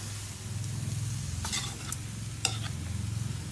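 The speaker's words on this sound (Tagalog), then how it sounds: "Lagay na po natin ang sayote. Sayote at carrot. Haluin ang bonggang-bongga." Sautéed chayote and carrot are stirred in a pan, with a low steady sizzle and a few crisp scraping clicks from the utensil, close and fairly quiet, no voices.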